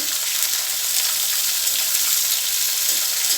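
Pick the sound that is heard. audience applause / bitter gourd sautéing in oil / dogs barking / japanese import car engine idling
bitter gourd sautéing in oil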